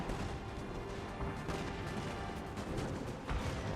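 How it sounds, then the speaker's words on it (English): Cannon fire in a Napoleon Total War battle from a Prussia campaign, including point-blank artillery; a dense, muffled barrage of overlapping booms and rumbling plays fairly quietly and continuously, with a sharper blast near the end. "cannon fire is horrendous"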